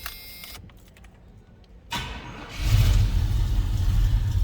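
A 1986 Chevrolet K10 Silverado 4x4 pickup with a 350 engine cranks briefly, then catches and starts, settling into a loud, steady idle rumble close by.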